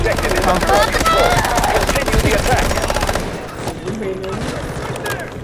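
Rapid, sustained MP7 submachine gun fire in Delta Force strikes a car in a fast rattling stream for about three seconds, then trails off into quieter scuffs. Voices are faintly audible beneath the shooting.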